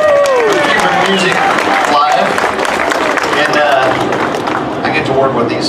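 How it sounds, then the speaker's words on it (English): A crowd at Knott's Berry Farm applauds during a live hillbilly band show, loud and continuous clapping and cheering close by, with voices mixed in throughout. "let's give it a big round of applause to Knott's Berry Farm"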